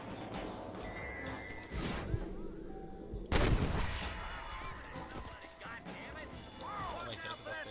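Carbine shots in the Red Dead Redemption video game: a few sharp, loud cracks, the strongest about midway through, with game voices and background noise around them.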